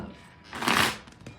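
A deck of tarot cards is shuffled once close up, a brief riffling burst that rises and fades within a quiet moment.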